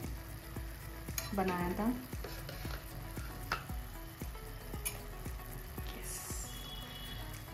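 Two spoons of yogurt go into tomato gravy with the oil separated, and the pan keeps up a steady close sizzle punctuated by light spoon taps, with a brief spoken phrase at the start.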